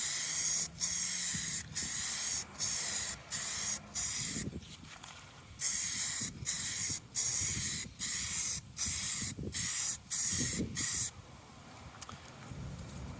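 Spray paint being applied to boat trim and vents, a series of close, loud hissing bursts about a second each with short pauses between, ending in quiet.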